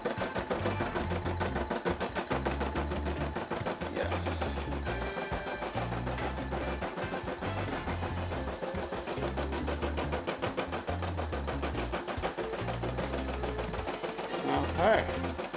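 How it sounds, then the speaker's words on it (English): Brother SE600 embroidery machine stitching out a Snapchat logo design, a steady rapid mechanical chatter of needle strokes, close and continuous throughout. "SE600 is stitching out this design like a pro. It's putting down the back stitch right now."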